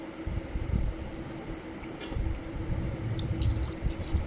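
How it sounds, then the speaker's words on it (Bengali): Water poured into a cooking pot holding pointed gourds (potol) for a yogurt-based doi potol curry, a steady low gurgling splash running through the whole stretch with faint clinks. "পটলগুলো দিয়ে দিই আর বেশ কিছুটা ওর সাথে জল দেবো"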